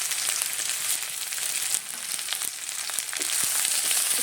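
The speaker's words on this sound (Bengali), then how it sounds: "পেঁয়াজ কুচি দিয়ে দিচ্ছি, আদা থেতো করা রসুন।" Onions, crushed ginger and garlic with dried red chilies frying in hot mustard oil, a loud, steady close-up sizzle with a few faint stirring clicks throughout, no voices.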